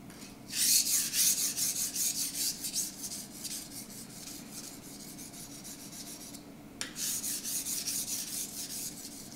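A steel knife blade rasps rhythmically across a Naniwa whetstone in steady back-and-forth strokes, soft and close, with a brief pause before the strokes resume.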